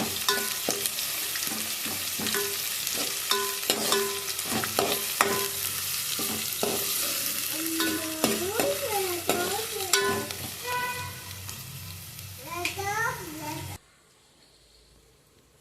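Onions and green chillies fry in a pan, a steady crackling sizzle punctuated by sharp stirring clanks and scrapes, with a brief voice over it, ending abruptly in near silence.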